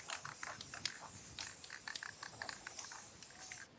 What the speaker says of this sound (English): I'll just give it a quick spray.